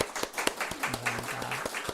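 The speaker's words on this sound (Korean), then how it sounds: "우리 박수로 격려하겠습니다" A church congregation claps together in a service, a dense patter of hands that is fairly close and fades out, with a brief low tone sounding under the clapping.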